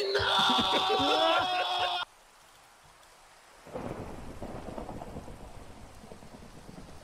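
A video game rainstorm with thunder: a busy rumbling burst at first, a short quiet gap, then steady rain hiss with low rumble continuing to the end.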